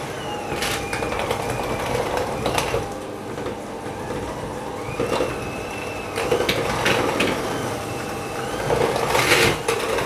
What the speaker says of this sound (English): obviously with an electric whisk it's way quicker